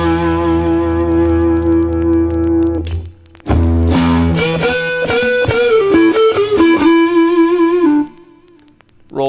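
Electric guitar through a distortion effect, a held chord that breaks off, then a run of gritty picked notes and a ringing tail, loud and close with no voices.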